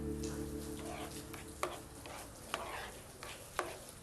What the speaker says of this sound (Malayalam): നന്നായി ഇളക്കിക്കൊണ്ടിരിക്കണം.